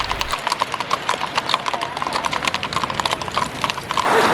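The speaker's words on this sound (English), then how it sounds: "Sometimes you will also see the police on horses in town." Police horse hooves clip-clop in a quick, steady rhythm on a hard town street in Stockholm, close and clear, with a faint background hum.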